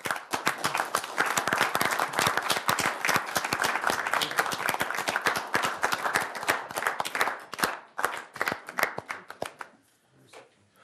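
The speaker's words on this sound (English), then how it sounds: "Let's give him another round of applause" At a city council meeting, a roomful of people claps for a retiring man: a loud, dense round of applause that thins into scattered claps and stops near the end.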